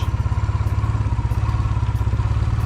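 A motorcycle idles and creeps forward as the clutch is slipped without throttle, a close, even, pulsing low engine chug throughout the short span.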